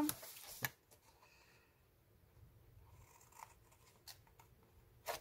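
Paper is cut with scissors in a quiet room, a few faint close snips and rustles spaced irregularly over a few seconds.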